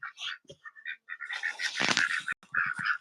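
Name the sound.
duck quacking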